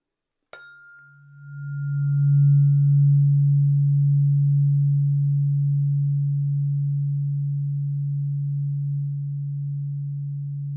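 A single struck tuning fork rings out as a low, pure, steady tone after a brief metallic attack, sustaining evenly and fading only slightly.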